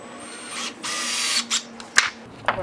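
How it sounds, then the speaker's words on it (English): A power driver driving screws into cedar fence pickets for a small raised garden bed, giving a close whirring burst followed by a few short zips as each screw seats. "This way it's going to screw in much better."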